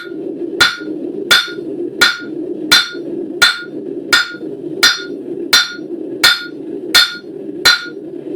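Hammer blows on hot metal over the horn of an anvil while forging a spoon, about eleven loud, evenly spaced ringing strikes close by with no talk.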